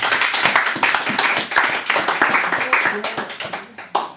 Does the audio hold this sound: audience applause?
yes